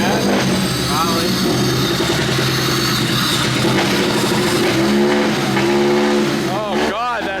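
A ruined Sol car engine running roughly and loudly right after first starting, a continuous rattly drone with some revving near the end, while people talk over it.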